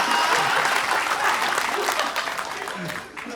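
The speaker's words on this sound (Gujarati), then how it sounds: "મને હોય તો તમે તાળીઓ પાડશો." A studio audience at a Gujarati comedy talk show breaks into loud, dense applause that slowly tapers off over a few seconds, with talking blended in underneath.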